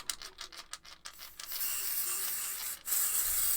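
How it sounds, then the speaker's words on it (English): A craft spray booth is misted with sparkle spray in a series of short, sharp aerosol bursts, followed by a longer continuous hiss and then another spray, close and fairly quiet. "give that a lovely spray with the sparkles"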